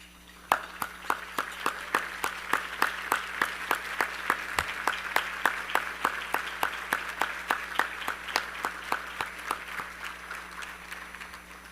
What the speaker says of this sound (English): I'd also like to ask any and all of our Siskin Hospital associates who are here today to please stand for a round of applause.